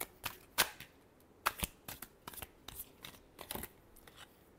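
A deck of tarot cards is shuffled close up, giving quiet, irregular papery snaps and flicks with brief pauses between them.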